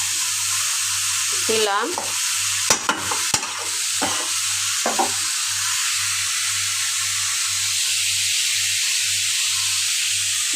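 Turmeric powder and cumin and black cumin seeds fry in hot oil with a steady broad hiss, broken around the middle by a few sharp stirring clatters and scrapes, plus a brief spoken word.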